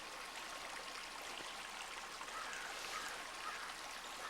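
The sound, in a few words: water flowing in a ditch line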